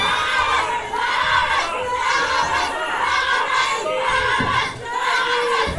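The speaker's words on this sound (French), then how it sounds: "Calmez la foule." A crowd of actors shouts and clamours together during a staged Passion play, a dense, sustained wall of overlapping voices that stays loud throughout with brief dips.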